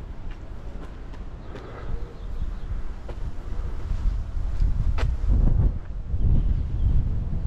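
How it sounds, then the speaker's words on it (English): Steady wind buffets the microphone on Manoel Island, Malta, a continuous low rumble with gusts swelling and easing throughout. "Oh, the wind is blowing on this side"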